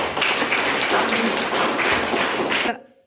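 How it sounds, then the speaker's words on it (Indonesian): A small group applauds after a classroom presentation, a short burst of dense clapping at close range that stops abruptly after under three seconds. "Oke, kita tepuk tangan."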